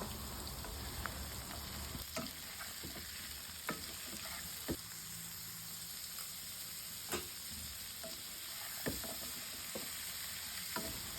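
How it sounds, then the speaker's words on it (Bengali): Mixed vegetables, including pumpkin, cabbage and peas, fry in a pan with salt and turmeric: a steady, close oil hiss runs throughout, broken by scattered clicks and scrapes of stirring. "সমস্ত সবজিগুলো হালকাভাবে ভাজতে ভাজতে সেদ্ধ করে নেব খুব ভালো করে"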